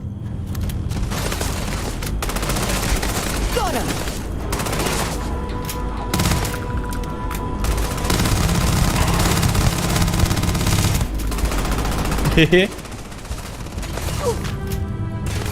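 Weapon fire in Starfield with rapid, loud automatic bursts and booming shots running almost nonstop, with a short lull near the end before the shooting resumes.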